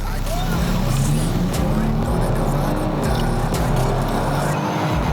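Kia Stinger with 370 horsepower accelerating hard in a street race against a BMW, a loud sustained engine roar with rising pulses close by and continuous throughout.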